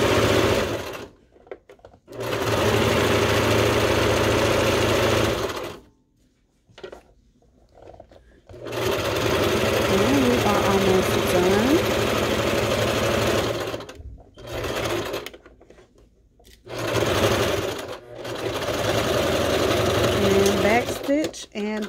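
A sewing machine stitches around the edge of a fabric pillow in several loud, fast mechanical bursts separated by short pauses, heard up close.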